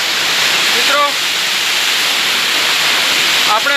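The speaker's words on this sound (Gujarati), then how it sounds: "મિત્રો ખૂબ સરસ ધોધ છે આ" A continuous rushing roar from Aadiwasi waterfall at Vansda, Gujarat, fills the scene close and loud, with brief chirping calls near the start and end.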